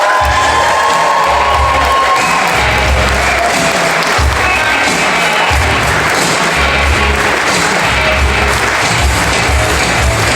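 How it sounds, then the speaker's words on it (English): Loud, sustained applause and cheering from a crowd at the 2026 Super League season launch greeting the Bradford Bulls CEO, with shouts and whoops mixed into heavy clapping and low thumps throughout. "Thank you very much for that very warm and humbling round of applause."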